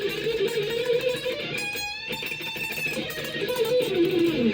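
Distorted electric guitar plays an old school black metal solo with fast tremolo-picked lines and a bending lead passage midway, loud and dense throughout with no voices.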